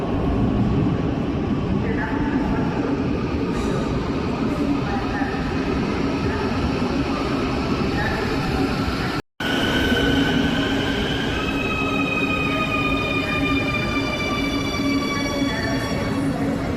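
A Quito metro train in motion, heard from inside the car as a steady loud rumble of wheels and motors, with rising squeals and whines late in the ride and faint voices underneath.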